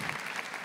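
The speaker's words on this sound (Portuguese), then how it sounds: "Aplaude o seu irmão do lado" A church congregation applauds at a Catholic service, a short dense patter of clapping hands filling the room, brief and fairly close.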